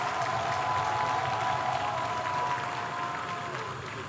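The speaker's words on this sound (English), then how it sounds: "I think you can give yourself another round of applause." Audience applause at a Lagos State Fire Service ceremony inaugurating firefighting vehicles, steady moderate clapping throughout with a faint tonal hum and some background voices.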